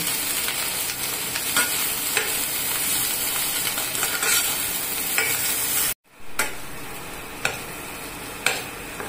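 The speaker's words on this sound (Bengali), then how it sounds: "ফুলকপিগুলো আমি এখন খুব সুন্দর করে ভেজে নেব।" Cauliflower florets frying in hot oil in a pan, giving a loud, steady sizzle with occasional stirring scrapes. The sizzle cuts out briefly and then resumes.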